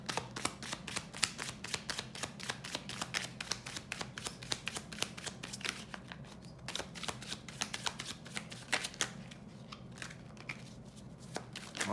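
Tarot cards are shuffled in a steady run of crisp riffling flutters and soft slaps for the whole stretch, close and fairly quiet, with no voices.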